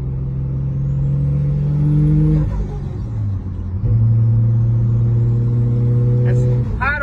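A turbocharged Nissan Skyline engine revs up through gears, rising in pitch, dropping at a shift, then climbing again, loud and close, with a faint turbo whistle near the end.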